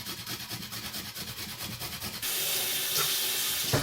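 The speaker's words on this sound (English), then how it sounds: "I'm just going to rinse that off because I'm going to use it again" Running tap water splashes over a metal cheese grater in a kitchen sink, first a rough scrubbing rinse, then a steadier, louder gush of water from the faucet, close and continuous with no talk.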